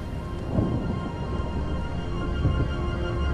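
Rain and rolling thunder in the video game RiME, a steady wash of rainfall with low rumbling swells, constant and enveloping without any speech.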